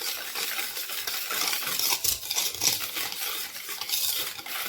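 Ingredients are stirred in a bowl until the sugar dissolves, a spoon or whisk scraping and clinking rhythmically against the sides, close and continuous.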